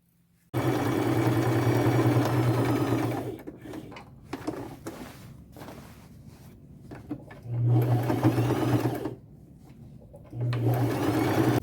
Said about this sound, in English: I will just stay close to the edges of the patches and get those all sewn on